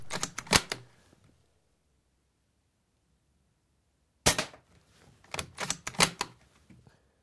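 A UTG Master Sniper airsoft rifle firing, a quick cluster of sharp snapping cracks, then a pause of about three seconds, then another burst of crisp clicks and snaps, close and with no talk.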